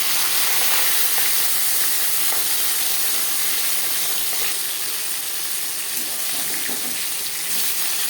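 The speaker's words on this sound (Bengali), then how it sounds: "পাঁচ চামচ রিফাইন্ড অয়েল গরম করে নিয়েছি এবার দিয়ে দেবো ম্যারিনেট করে রাখা মাছের মাথা আর দিয়ে দেব মাছ" Marinated silver carp head and pieces fry in hot refined oil, giving a loud continuous sputtering sizzle with scattered crackles and pops, steady and close.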